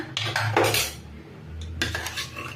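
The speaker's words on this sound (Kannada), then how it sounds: "ಕುಕ್ಕರ್ ಮುಚ್ಚಳ ಓಪನ್ ಮಾಡ್ತಾ ಇದ್ದೀನಿ" Metal clanks and scrapes as a pressure cooker lid is worked open after cooking chicken gravy, several bright clinks close by with a faint hiss underneath.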